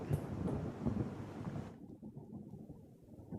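Faint, rumbling rain during a days-long heavy downpour in Gir Somnath, with low thunder-like roars. The high hiss cuts out partway through and leaves a steady low rumble.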